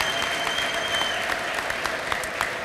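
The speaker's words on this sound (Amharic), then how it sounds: "ለጌታ ጭብጨባ አምጡ" A church congregation claps for the Lord during a prophet's service: a brisk, even roomful of applause with sharp individual claps standing out, continuous for the whole moment.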